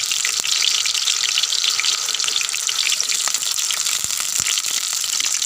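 Longganisa sausages fry in a pan with a steady, dense crackling sizzle throughout, broken by a few sharper pops and spatters, close and fairly loud with no talking.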